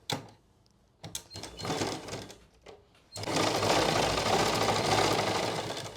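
A sewing machine stitches a salwar waistband (nefa), running in short close bursts at first, then sewing in one long loud continuous run.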